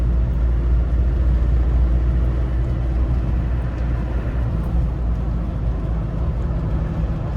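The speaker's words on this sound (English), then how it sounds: "Turbo boosts nicely." A 1992 Land Rover Defender 90 with a 200TDi diesel engine drives under turbo boost, giving a steady, loud, close engine drone with road rumble throughout.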